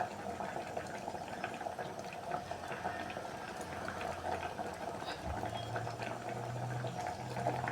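Spinach sambar bubbling in a pot, a steady low simmering hiss with faint popping, continuous and close, with a low hum entering partway through.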